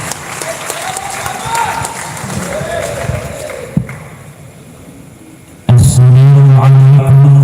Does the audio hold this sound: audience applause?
yes